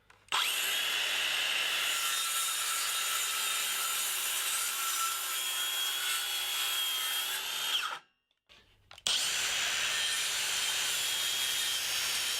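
A Makita DHS680 18V cordless circular saw cuts through wood with a steady, loud, high-pitched whine, stops abruptly for about a second, then bites into the wood again for a second sustained cut.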